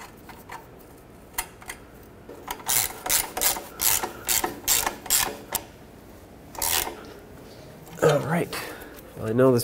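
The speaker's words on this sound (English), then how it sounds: "let's tighten up the clamp" Ratchet tightening a reused exhaust pipe clamp on a 2007-2010 Chrysler Sebring during catalytic converter replacement: a series of about eight close, rhythmic ratcheting bursts, then a few more, with brief talk near the end.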